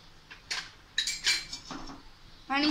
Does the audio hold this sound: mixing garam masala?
yes